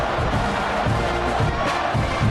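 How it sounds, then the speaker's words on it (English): A dense stadium crowd roars steadily before the opening kickoff of a college football game, Texas A&M playing; sustained, loud and broad with swelling surges of cheering throughout. "They're set to kick it off, and this crowd now ready to get behind them."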